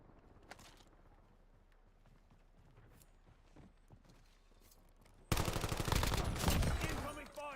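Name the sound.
gunfire in Call of Duty Warzone video game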